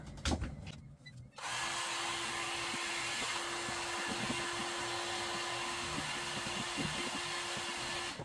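A heat gun blows hot air onto overhead vinyl during a sailboat repair, a steady loud whoosh with a constant tone that starts after a brief quiet moment and runs on without a break.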